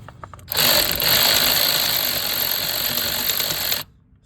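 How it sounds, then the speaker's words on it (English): A power drill whirs loudly and steadily for about three seconds up close, drilling out a broken spark plug in a Ford F-150 truck engine, then cuts off abruptly; no voices. "So I'm gonna try to drill this out."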